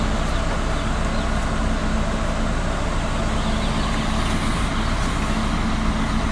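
A climate-controlled truck carrying day-old chicks rumbles steadily, its engine a loud, even drone that holds without a break throughout.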